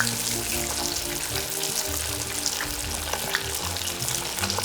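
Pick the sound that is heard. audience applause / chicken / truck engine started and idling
chicken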